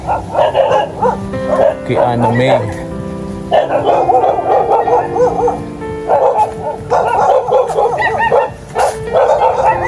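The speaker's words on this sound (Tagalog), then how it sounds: "Tinig ko na yung tahol ng" Several large dogs bark repeatedly in loud, overlapping bursts nearby at a mountain home, with some yipping, while a person speaks briefly.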